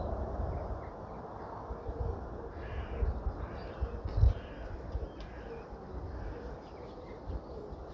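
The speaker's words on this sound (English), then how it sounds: "There's a raven, look, can you see it?" A raven or rook calls outdoors among birch woods, with faint, far caws over a constant rough background of wind and noise.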